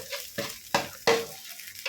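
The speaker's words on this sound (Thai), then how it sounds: "แล้วก็คั่วไปเรื่อยๆ" Stir-frying duck egg fried rice in a hot pan: a low steady sizzle with a few sharp scraping strokes of a utensil against the pan, close up.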